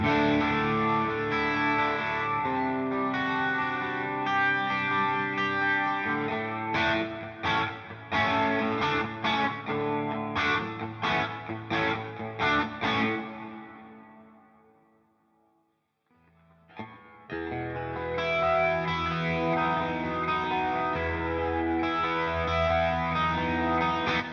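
Electric guitar played through AmpliTube 5 amp and effects presets in overdrive, with distorted chords and chorus-thickened sustain, loud and steady, then a brief drop to near silence before the heavy playing returns.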